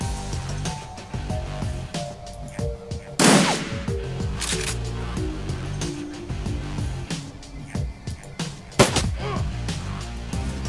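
Gunfire from the video game Shadowrun in a graveyard firefight, with scattered bursts and single shots over busy game sounds, including one loud close blast and several sharp cracks.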